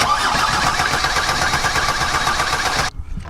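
The diesel engine of a Luton van cranks and grinds loudly and continuously, then suddenly cuts out into a few quieter sputters as the fuel system is still being primed.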